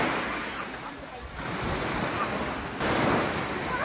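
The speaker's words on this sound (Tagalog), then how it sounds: "Sarap ng beach." Continuous wash of ocean surf breaking at a beach in Malajog, Samar, with wind buffeting the microphone and a soft voice faintly underneath.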